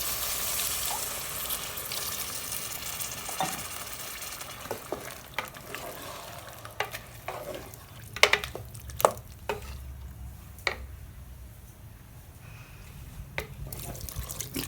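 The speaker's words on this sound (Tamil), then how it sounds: "இப்போ மட்டன் வேகிறதுக்கு தேவையான அளவுக்கு தண்ணி ஊற்றிக்கலாம்" Water poured into a pot of simmering Nellai-style mutton gravy, with a steady sizzle and stirring, scattered clinks of a spoon against the pot, and a soft splash as the liquid goes in.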